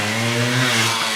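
A two-stroke JR80 pit bike engine revs loudly and steadily up close, holding a high, buzzing, harmonic-rich drone throughout.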